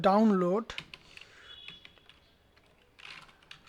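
Keys clatter on a computer keyboard, a burst of quick clicks following a short stretch of talk, then scattered single taps and another brief flurry, close and fairly soft.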